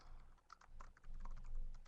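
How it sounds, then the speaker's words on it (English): Quick, light keystrokes on a computer keyboard, a brief burst of soft irregular clicks, close but quiet, heard alone without speech. "Sorry, I was typing it in a little too fast."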